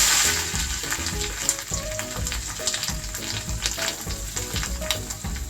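Grated coconut and fennel seeds roast in a pan over low heat for a Kerala-style fish curry masala, giving a lively, continuous sizzle with scattered crackles and stirring scrapes, close and with no voices.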